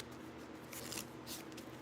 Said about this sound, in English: the confirmation while I shuffle the cards